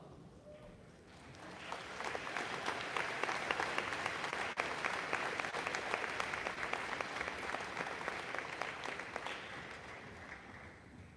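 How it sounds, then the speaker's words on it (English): Audience at a school prize day ceremony breaking into a long round of applause, dense steady clapping from a large crowd in a hall, swelling after a quiet start and holding at full strength to the end. "a big round of applause for our stewards and all our formal leaders for 25-26"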